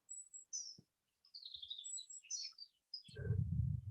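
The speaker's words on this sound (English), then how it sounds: "Some kind of wild goose." High chirping wild goose calls come in scattered bursts over silence in the woods, ending with a lower, louder call.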